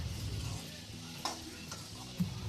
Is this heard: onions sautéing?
yes